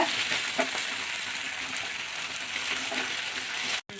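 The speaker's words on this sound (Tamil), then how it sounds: "வெங்காயம், பூண்டு, காஞ்ச மிளகா, புளி, இது எல்லாமே போட்டு நம்ம நல்லா வறுக்க வேண்டுங்க." Onion, garlic, dried red chillies and tamarind fry in a pan for a drumstick-leaf chutney, making a steady close sizzle with faint stirring scrapes that cuts out briefly near the end.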